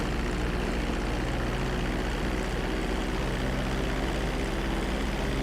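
A plane's engine drones steadily while descending toward a runway in a video game, a constant loud propeller hum with no breaks and no talking.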